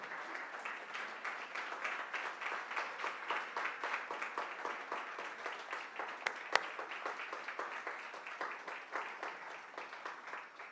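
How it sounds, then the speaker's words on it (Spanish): Church congregation applauding the Lord during a sermon, a steady pattern of rhythmic clapping that holds at moderate level throughout, with one sharp click standing out near the middle. "Dale un aplauso al Señor"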